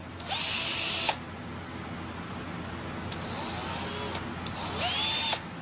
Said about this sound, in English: The drill is just a little bit bigger than the nail, and drill that on out.